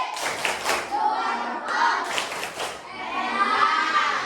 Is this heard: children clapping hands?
yes